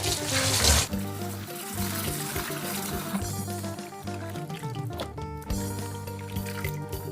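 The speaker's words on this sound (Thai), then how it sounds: "เปิดน้ำล้างเหมือนเดิมค่ะ" Tap water runs steadily into a sink while pickled mustard greens are rinsed by hand, a continuous splashing flow with occasional shifts as the leaves are moved about.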